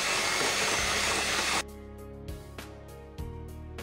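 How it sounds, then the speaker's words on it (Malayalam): An electric mixer whirs loudly and steadily while beating fresh cream, then stops abruptly, leaving a quieter stretch with a few soft knocks and clatters. "ഇനി ഇതിനെ ഒന്ന് ബീറ്റ് ചെയ്ത് കൊടുക്കാം."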